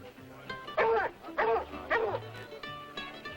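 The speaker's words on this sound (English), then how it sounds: "Wanted posters, wolf hunt, bring dogs. They did." Several dogs bark in short bursts on a wolf hunt, three or four loud yelping barks spaced about half a second apart, nearby and clear against a quiet background.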